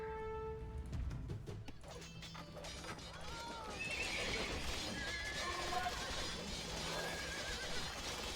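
Horses neigh repeatedly in the Age of Empires 2 strategy game, several rising whinnies layered over steady clip-clop hooves, crashing battle effects and a continuous dense game soundscape at moderate loudness.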